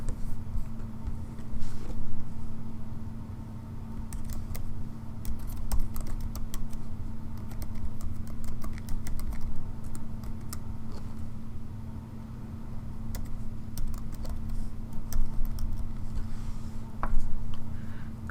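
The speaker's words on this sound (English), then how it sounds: "Let's enter an email address to create an account." An email address is typed on a computer keyboard in a steady patter of light, close key clicks over a low constant hum, with no talk.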